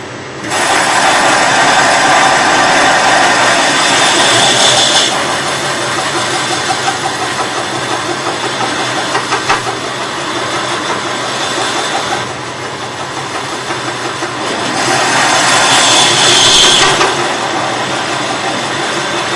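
A threading tool cuts a thread into metal on a running lathe, a loud continuous machine drone with a high cutting whine that swells and eases in passes, heard alone without speech.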